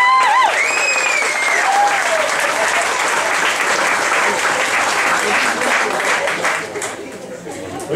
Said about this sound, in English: Thank you for the clapping action.